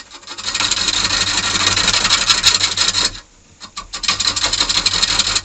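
A star-bit hollowing cutter chips into wood on a hollow-form turning with a continuous loud, dense rasping roar that stops briefly and then resumes, close and with no talking.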